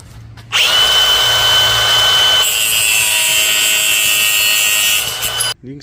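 A power drill fitted with a hole saw cuts steadily through material while fitting a Tractor Supply gate with a Mighty Mule opener. The whine is loud, close and continuous for about five seconds, then stops sharply.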